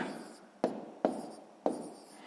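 A multiplication sum is written by hand in a column, with three quick, close pen or pencil strokes scratching across paper at a steady pace, each one fading before the next.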